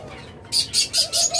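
Four quick, bright chirps come in close succession from caged blue and violet lovebirds offered for sale, sharp and near after a brief quiet start.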